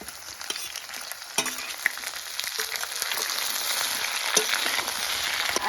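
Potatoes and papaya fry in a pan with a steady hiss. The sizzle builds louder over a few seconds, and a few sharp clicks of stirring cut through it.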